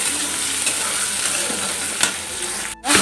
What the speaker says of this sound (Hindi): तब मैं डाला था प्याज ला थोड़ा से लाल भुजत ला थोड़ा फ्राई करना है।